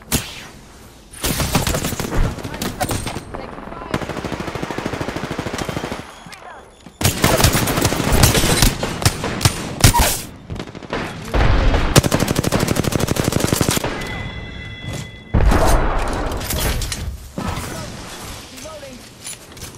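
Bursts of automatic gunfire in Apex Legends, rapid rattling volleys in several long stretches separated by short pauses, loud and close, with a player's voice talking over parts of it.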